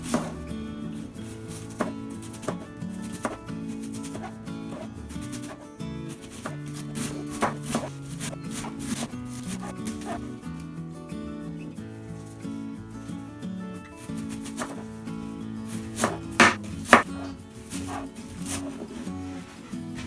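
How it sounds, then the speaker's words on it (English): A knife slices a cabbage thinly on a board in a home kitchen, a steady run of soft cutting taps under continuous background music. "Slice your cabbage super thin."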